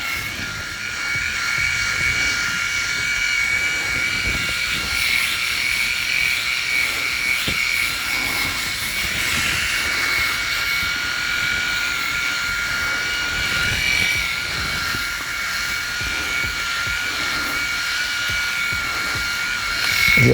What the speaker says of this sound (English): This shaver generally gets rid of all of that easy enough.